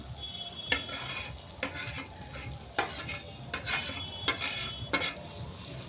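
Ground fennel, cumin and ginger pastes are stirred in a pan of softening tomato for a home-cooked festival dish, with repeated scraping spoon strokes over a steady low sizzle, close and moderately loud.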